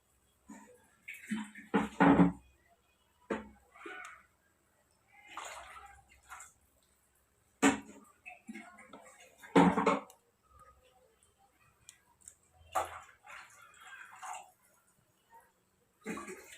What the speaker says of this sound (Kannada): ಇವಾಗ ನಾನು ನೀರು ಹಾಕೋತೀನಿ